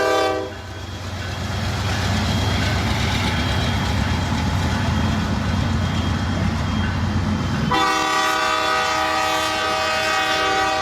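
A train rolls by with a steady, loud rumble of wheels and cars, then a long, blaring horn sounds near the end and holds on over the running noise.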